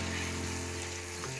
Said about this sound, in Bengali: কলিজাটা ভুনার জন্য আমি ভালো করে কষিয়ে নিচ্ছি।